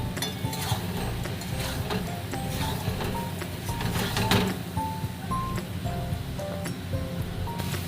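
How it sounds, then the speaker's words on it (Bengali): Boiled potatoes and taro sauté with spices in a pan, giving a steady close hiss of frying with faint rustling and light scraping throughout. "এবার দেবো আমি সেদ্ধ করে রাখা আলু আর কচুর বাটিটা দিয়ে মশলার সাথে ভালো করে কষিয়ে নেব"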